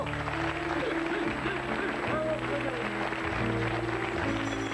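Studio audience applauding on a French television comedy panel show, a steady patter of clapping throughout, mixed with a background music bed.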